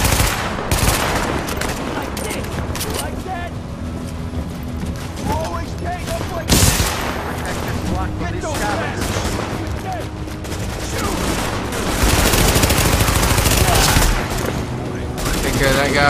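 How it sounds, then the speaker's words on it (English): Rapid, dense gunfire from the video game The Division: overlapping bursts and shots continue almost without a break at close range, with a few heavier booming hits. "we're going to shoot this guy"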